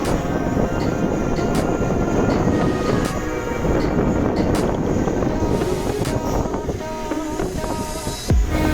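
Strong wind buffets a Hubsan Zino 2 Plus drone and its microphone in flight, a loud, continuous roaring rumble with gusty fluctuations and sharp brief crackles.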